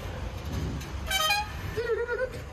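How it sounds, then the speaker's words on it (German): A retrofitted horn on a sky-blue Trabant honks twice in quick succession during a Trabant parade, a bright tooting tone over low road rumble, followed by a lower second honk. "Und die Hupe hast du nachgerüstet"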